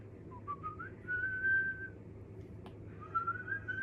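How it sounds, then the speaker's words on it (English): A person whistles a short tune softly, a few sliding, wavering notes close by with a brief pause midway. "You want to hear my whistle?"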